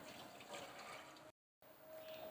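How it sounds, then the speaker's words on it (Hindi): Water poured into a pan holding soaked chana dal, a soft, steady splashing stream heard close but quietly, briefly cut off by a moment of silence before continuing. "चने की मैं इसमें डाल दूंगी 1 कप पानी"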